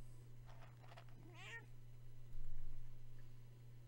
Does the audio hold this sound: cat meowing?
yes